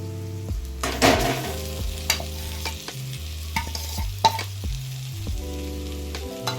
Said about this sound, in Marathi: आता आपण ह्याच्यात टाकणार आहे मॅश केलेले बटाटे